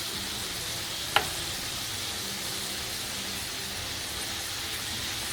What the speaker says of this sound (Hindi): दोनों साइडों से जो है 5-5 मिनट में हम इस तरीके से इसको फ्राई कर लेंगे